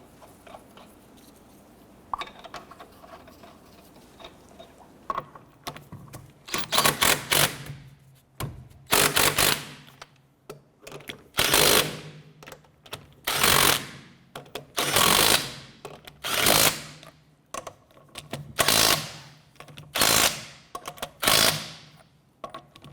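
Lug nuts being snugged down on a Chevrolet Impala rear wheel, with repeated bursts of rapid mechanical rattling and whirring separated by short pauses, growing denser after a quiet start.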